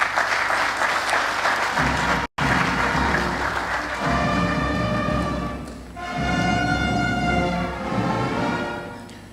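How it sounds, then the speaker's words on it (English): Audience applause fills a large auditorium at a national defence and security summit in Abuja, Nigeria, sustained clapping across the whole stretch with a brief cut near the start and swelling rounds later on. "May I request another round of applause for those kind words."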